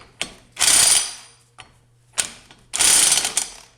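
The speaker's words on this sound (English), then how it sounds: "I'm gonna torque this down" A wrench torques the front axle nut on a Yamaha Grizzly 660 ATV, giving two bursts of loud, close mechanical ratcheting with brief clicks between them and no talk.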